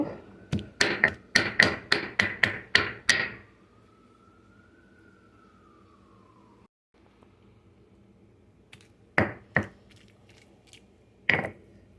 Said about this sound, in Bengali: আমি এবার চিংড়ি মাছগুলোকে একটু ভালো মতো থেতলিয়ে নিব